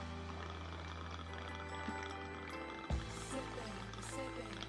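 Chocolate rum poured into a shot glass for a dulce de leche shot, a brief liquid pour against a steady background hum, with a small splash partway through.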